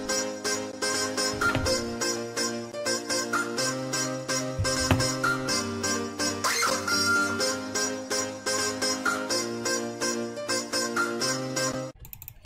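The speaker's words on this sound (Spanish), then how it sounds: "aquí solo lo que hice fue poner el sonido del pollo al ritmo del piano" A chicken clucking sample is chopped in rhythm with a piano part inside a dense electronic track, the beat and layered synths running steadily until it cuts off near the end.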